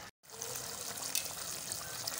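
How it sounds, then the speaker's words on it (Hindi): Yogurt going into a pan of simmering green chilli chicken masala, a steady wet bubbling and sizzling hiss after a brief silent gap at the start, close and continuous with no talking. "ये दही डाल दी मैंने।"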